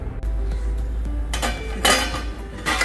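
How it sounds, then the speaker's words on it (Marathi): Metal clinks and a clattering knock as a lid goes onto an appe pan of sweet banana buns, a few short bright impacts near the middle and end against a low background hum. "आता यावर आपण झाकण घालून ठेवायचे"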